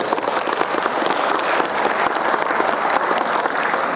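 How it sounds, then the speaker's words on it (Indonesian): A crowd at a Halal Bi Halal gathering in a hotel applauds loudly and steadily, dense clapping sustained the whole time with no break. "Tepuk tangan untuk Bimbo."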